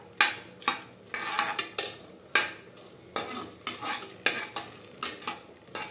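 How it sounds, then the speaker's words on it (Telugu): Garam masala whole spices frying in hot oil for Telangana bagara rice, stirred with a metal spoon: repeated sharp scraping strokes against the pan come in an uneven rhythm over a light background sizzle, close and clear. "గరం మసాలా అంతా గరం మసాలా వేసేసుకున్నాక ఫ్రై చేసుకోవాలండి"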